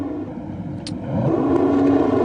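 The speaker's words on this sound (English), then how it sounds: "The engine revs rise then." Formula 2 race car engines rev on the grid before a race start, a dense mid-pitched roar that swells and grows louder partway through, with no voices.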